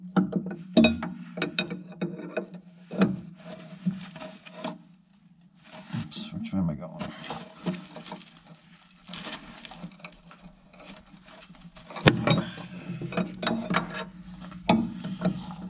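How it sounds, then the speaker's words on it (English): A ratchet clicks in bursts while a nut is undone on tailgate latch linkage, the quick metallic pawl chatter repeating between pauses, close and moderately loud, with a low hum underneath throughout. "So I'll undo this nut and try to take one more turn out of it"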